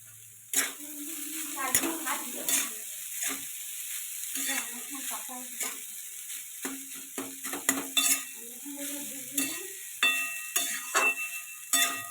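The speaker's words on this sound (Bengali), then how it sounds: "তো দেখো আমার ভাতটা ভাজা রেডি" Rice and potato are stir-fried in a pan, with a spatula scraping and tapping against the metal in quick irregular strokes over a light sizzle, close and clear.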